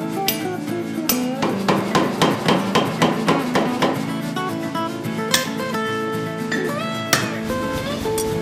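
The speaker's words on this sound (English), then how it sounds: "hammering iron." A blacksmith hammers iron into a hatchet, ringing metallic blows landing in a steady rhythm of about two per second, close and loud, with the hammer bouncing on the anvil between strikes.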